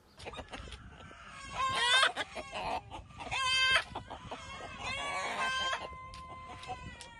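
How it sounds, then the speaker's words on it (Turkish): Denizli roosters crow in long, drawn-out calls that overlap, with clucking and rustling between them, close and loud. "Uzun süre öten horozları belirliyoruz"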